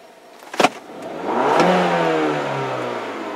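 2011 Mini Cooper S R56 with a random misfire being revved: a brief clack, then the engine climbs in a rising rev, holds high and falls back, loud and close.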